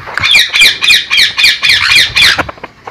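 Birds at the Rasik Beel mini zoo bird sanctuary squawk loudly and close by, about eight harsh calls in a quick regular series, then quieter trailing calls.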